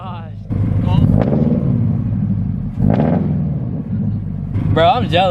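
A Subaru with an aftermarket FRS exhaust and UEL headers idles with a deep, loud, throaty rumble and a couple of blips of revving, close up, while people talk excitedly over it.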